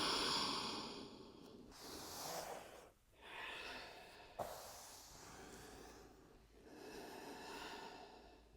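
Slow, soft breathing during a yoga child's pose on the mat, with long airy inhales and exhales, some with a snorting or sighing edge, heard close and quiet with no talk.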